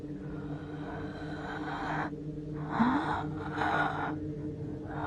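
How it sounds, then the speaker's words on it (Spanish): Slow, labored breathing like someone choking, heard at night in a hallway: drawn-out rasping gasps in two or three swells over steady low background hum, fairly close and unhurried. "pude escuchar una respiración muy lenta, como de alguien que se estuviera ahogando"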